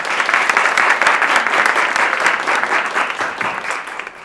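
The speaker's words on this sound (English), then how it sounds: "she always gets a round of applause" Applause rises for a musician at a playback theatre performance, a close, lively crowd clapping steadily before the sound thins and tapers off near the end.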